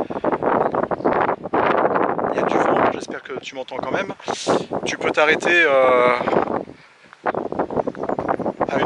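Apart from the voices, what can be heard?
wind blowing into the microphone outdoors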